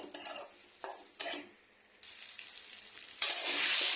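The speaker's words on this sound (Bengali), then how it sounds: "2 মিনিট এটাকে কনস্ট্যান্ট নাড়তে হবে" Mutton masala is stirred constantly in a pan, with bursts of metal spoon scraping and clinking against the pan over a bright sizzle that swells louder at the end, close up, with no talk.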